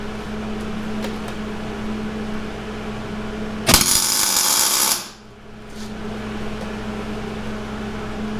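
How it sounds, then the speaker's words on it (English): Tack welding on a Dana 60 high steer knuckle from a 2004 Super Duty one-ton front axle: a single steady arc buzz lasting just over a second, sharp and loud over a hum in the shop. "Okay, now we're tack welded,"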